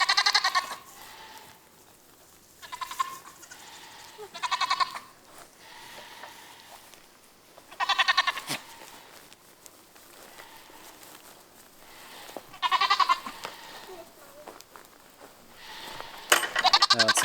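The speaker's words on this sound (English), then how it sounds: "Bringing the goats down to their new pasture." Dwarf goats bleat in repeated bursts while being herded down to a new pasture, several loud calls spaced out over a quiet outdoor background with faint footsteps between them.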